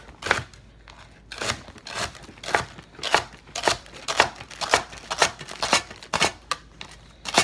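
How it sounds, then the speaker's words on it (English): Celery stalks chopped on a cutting board into small bite-sized pieces with a knife, a steady run of crisp, close, sharp cuts at an even rhythm, with no talking. "And then just chop your celery into small, bite-sized pieces like this."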